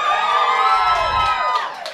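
A live storytelling audience breaks into loud cheering and high-pitched whoops. The burst is energetic and sustained, with individual shrieks rising above the crowd before it starts to taper off.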